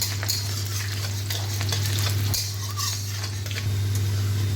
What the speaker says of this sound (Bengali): রসুনটাকে অল্প লাল করে ভেজে নেব